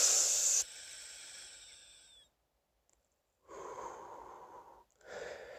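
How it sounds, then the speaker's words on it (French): A man with a cold draws breath in through a stuffy nose, two hissing, congested inhalations separated by a brief silence, close and fairly loud. "Tu inspires par exemple avec le nez."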